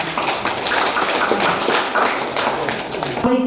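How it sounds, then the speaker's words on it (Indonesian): Steady applause from a crowd fills the whole stretch, dense and continuous, with a voice faintly audible beneath it. "Mari kita tepuk tangan bersama-sama."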